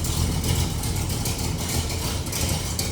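A 1969 Chevrolet Chevelle 396 Yenko tribute idles with a steady low rumble and a faint ticking puff from a small exhaust leak, recorded up close.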